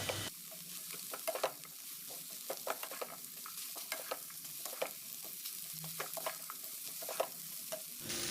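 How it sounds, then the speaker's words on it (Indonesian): Vegetables and meatballs are stirred into seasoning in a pan, with soft sizzling and repeated scraping clinks from the spatula throughout, close and fairly quiet, with no talking. "Kemudian aduk-aduk hingga tercampur merata."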